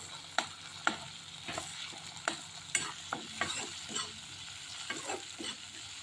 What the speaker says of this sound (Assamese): আৰু শুকান জলকীয়াকেইটাও তেলতে ভাজি ল'ম